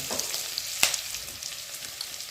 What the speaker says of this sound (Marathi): दोन मिनिट कांदा भाजून झाला